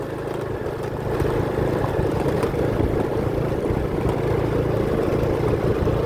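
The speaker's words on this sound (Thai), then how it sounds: "รถไถมาแล้ว" A steady low tractor engine rumble runs throughout, growing slightly louder after the first second, idling or moving nearby.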